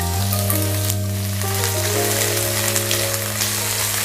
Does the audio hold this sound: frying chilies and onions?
yes